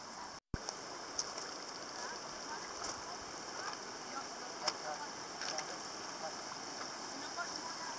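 Water rushes and burbles steadily, a continuous close flowing sound with small splashes, no voices.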